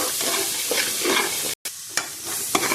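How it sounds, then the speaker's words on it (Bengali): Dal being stirred into hot spiced oil in a pan, with turmeric and chili, for a home-cooked ghugni meal; a steady close sizzle with scraping stirs, briefly cut off by a short silent gap. "ডাল দিয়ে একটু নাড়াচাড়া করব।"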